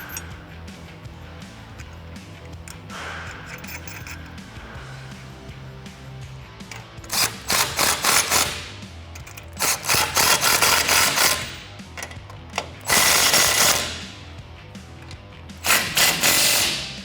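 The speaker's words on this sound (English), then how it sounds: "we'll snug everything up with our 17mm ratchet or impact gun" Ratchet tightening 17mm bumper bolts on a 2014-2021 Toyota Tundra during installation of a Barricade HD2 front bumper; several bursts of rapid metallic clicking come in clusters, close and loud, over a low steady background hum.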